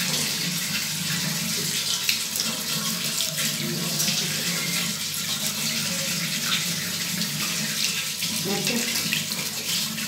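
Tap water runs steadily into a sink in a continuous broadband rush, close and fairly loud, used for cleaning a soap dish, with no voice over it.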